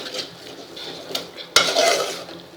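Dry garam masala spices stir-roasted in a pan for a sprouted moong curry, with steady scraping and clinking of a spoon against the metal, a faint sizzle, and one sharp loud knock partway through.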